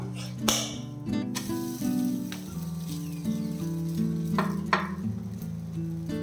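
Protein-rich weight-loss food sizzles steadily in a pan as it is flipped over, with close, loud frying crackle, scraping and a few sharp spatula knocks.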